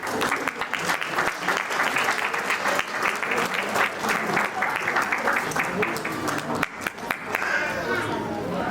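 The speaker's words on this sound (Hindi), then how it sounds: "जोरदार तालियां" Loud, sustained applause from a large audience at an award function, continuous dense clapping with chatter and voices layered underneath.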